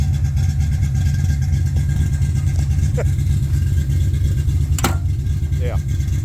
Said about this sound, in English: Cold start, just backed it out. She's idled up a little right now.